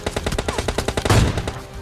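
Rapid automatic gunfire from the mobile shooter game PUBG Mobile Lite, a steady rattling burst of closely spaced shots filling the whole stretch, loud and with no talk over it.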